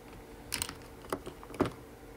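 A spring-tool chisel knocks rivets out of the bracket holding the output transformer to the basket of a Zenith 49-121AB electrodynamic loudspeaker, giving three sharp metallic strikes spaced apart, close and fairly faint.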